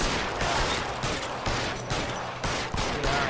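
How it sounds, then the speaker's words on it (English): Gunfire in the video game L.A. Noire, a shootout with repeated shots fired in quick bursts over a steady noisy backdrop, loud and close, without speech. "Go ahead, shoot Roy."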